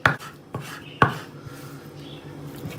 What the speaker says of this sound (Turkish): Tavuklar bunda çok ufak doğramanız lazım.